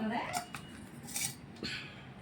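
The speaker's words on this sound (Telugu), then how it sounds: "ఇందులో ముక్కలు వేసేసుకున్నాను. ఇలా నూరుకోవాలన్నమాట." Pieces of eggplant and cherry tomato are crushed with coarse salt in a stone mortar, giving a few close, gritty scraping and grinding strokes with a hard stone knock in between.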